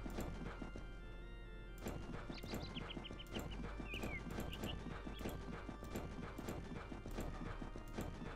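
Horse hooves clip-clop in Age of Empires 2 as a fast, steady run of crisp clicks over game background sound, with brief whistling chirps in the middle.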